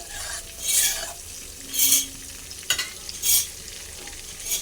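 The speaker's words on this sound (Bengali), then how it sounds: "এবার দিয়ে দিলাম পেঁয়াজ কুচি পেঁয়াজ কুচিকে লাল করে ভেজে নেব" Chopped onion is fried in hot oil with whole garam masala spices such as cardamom and cinnamon for prawn malai curry, a steady sizzle broken by three louder bursts of stirring, close and prominent.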